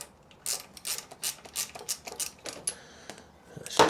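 Ratcheting socket turning a spark plug on a Suzuki RGV 250 motorcycle, giving about nine crisp bursts of clicking at a steady, even rhythm, close up and with no talking.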